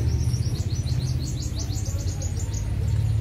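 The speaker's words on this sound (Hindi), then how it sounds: "चिड़ियों की चेचाहट," Birds chirp in repeated bright, rapid calls at an old Hindu temple, steady through the clip over a low, constant hum.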